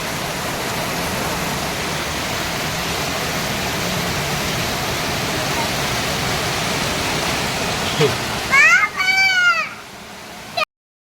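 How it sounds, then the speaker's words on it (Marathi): Heavy monsoon rain pours in a loud, steady rush of hiss for most of the stretch. A voice briefly speaks near the end. "पावसाचा जोरदार पाऊस चालू झाला आता"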